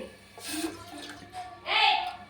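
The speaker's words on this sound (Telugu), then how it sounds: "ఫోర్ కప్స్ వాటర్ అయితే వేసుకోవాలి" Water splashes and pours in short bursts into a cooking bowl, fairly close, with faint voices in the background.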